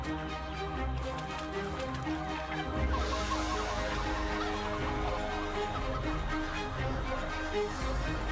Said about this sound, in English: Rumor hath it that presently even the chickens wish to rise up.